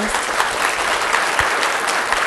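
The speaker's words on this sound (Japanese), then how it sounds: "皆様拍手でどうぞお願いいたします" An audience claps steadily with no break after a talk, warm sustained applause filling the space for a couple of seconds.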